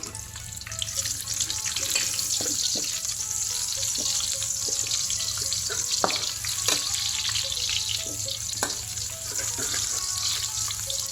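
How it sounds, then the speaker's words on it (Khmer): Shallots sizzle and fry steadily in a hot pan for Thai holy basil pork, a continuous crackling hiss with occasional stirring clicks and no talk. "ចាំយើងដាក់ខ្ទឹមក្រហមរបស់យើងចូល"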